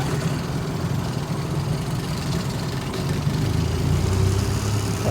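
2003 Tohatsu/Nissan 18 hp electric-start outboard running fast just after a cold start, a steady close droning engine note that swells slightly toward the end.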